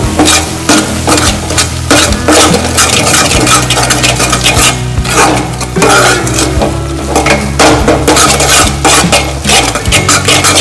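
Crab curry masala ingredients mixed together in a bowl, a steady close run of scraping, stirring and clinking that goes on without a break.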